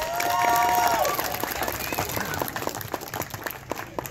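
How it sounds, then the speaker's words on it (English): At a National Night Out community event in Sweetwater, an audience breaks into applause. The clapping starts full and then thins into scattered claps, with someone speaking over the start. "if you guys give Daniel a big round of applause, please"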